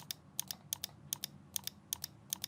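Computer mouse buttons clicking during CAD modelling work: crisp double clicks in quick pairs, repeated about six times at an even pace, close and quiet with no voices.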